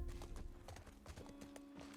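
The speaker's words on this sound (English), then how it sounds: "Did y'all ride the horse the entire freaking way?" Horse hooves clip-clop in The Last of Us Part 1, played on PC: a quick, steady rhythm of hoof beats, faint and continuous across the whole moment.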